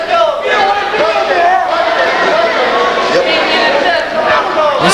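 Wrestling crowd cheering and chattering steadily throughout a bout, a loud continuous roar of many voices in an arena, with a commentator talking over it.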